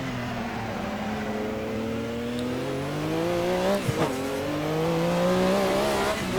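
A Group C Porsche 962C race car in Assetto Corsa at the Norisring, its engine note climbing steadily under acceleration, briefly dipping at a gear change, then pulling hard again, loud and close with no talk.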